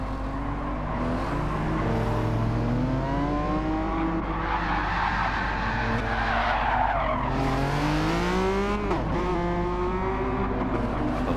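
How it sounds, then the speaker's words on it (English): Tyres of a racing car in Gran Turismo 7 skidding and squealing as the brakes lock up, with a long wavering screech over a steady engine drone, loud and continuous throughout. "Those brakes locking up"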